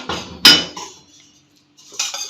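A whisk clinks against a bowl of yogurt mixed with salt, chaat masala and roasted ground cumin, making a few quick bursts of scraping and clinking with a short pause between them, close and fairly loud.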